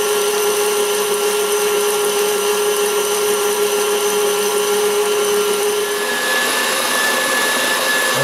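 A stand mixer whips buttercream as butter goes in a few chunks at a time, giving a steady, loud motor whir throughout, with a slight shift in tone near the end.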